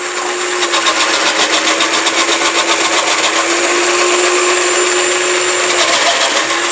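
A powerful electric food processor runs at full speed, a loud, steady motor whine that holds for several seconds with a slight pulsing texture and no speech.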